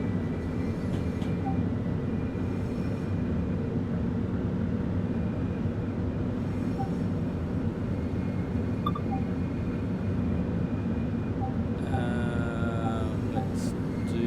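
A train in Train Sim World on a run to Brighton, heard as a continuous, even rumble from a camera outside the train, with faint tones near the end.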